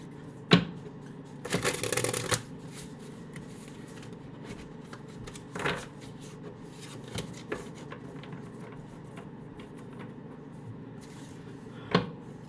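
A Vampire's Tarot card deck is shuffled close by in one brief riffling burst, followed by scattered soft clicks and taps of cards being handled in a quiet room.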